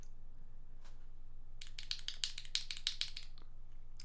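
Keys with Tecsee Diamond switches are typed on a mechanical keyboard, a short run of crisp clacks coming in quick clusters for about two seconds, fairly faint over a low steady hum.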